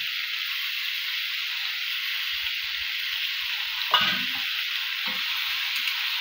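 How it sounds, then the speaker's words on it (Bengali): Turmeric powder stirred into meat and potatoes frying in a pan, a steady close sizzle and hiss with a couple of soft spoon scrapes and knocks partway through. "হলুদ গুঁড়ো দিয়ে বন্ধুরা ভালো করে নাড়তে হবে।"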